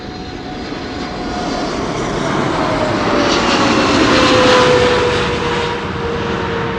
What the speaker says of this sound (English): Emirates Sky Cargo arriving from Aguadilla, flight 9914, 777 freighter